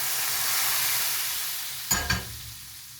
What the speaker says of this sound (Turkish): Daha sonra üzerine yapmış olduğumuz sosumuzu döküyoruz.